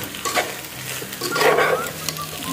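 Prawn curry stirred as it fries in a pan, a steady sizzle broken by close scraping and stirring strokes, with no talk over it.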